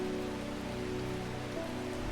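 Steady rainfall in the video game Strange Horticulture patters continuously on a surface, with a low, constant hum underneath.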